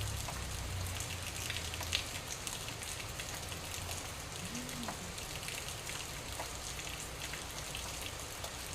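Steady rain falls outdoors, heard from indoors as a soft, even patter that runs unbroken and fairly faint throughout.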